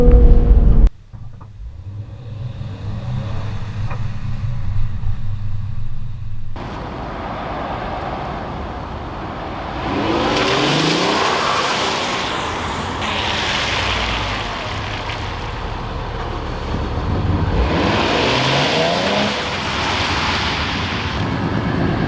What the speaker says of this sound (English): gonna mash down on the throttle and see how much wheel slippage we get